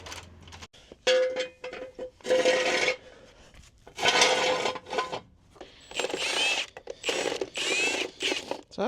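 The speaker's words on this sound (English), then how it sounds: "So we'll get this thing jacked up." A Chevy pickup truck being jacked up with its parking brake set: repeated bursts of rasping, ratcheting mechanical clicks and scraping, loud and close, in short uneven strokes with pauses between them.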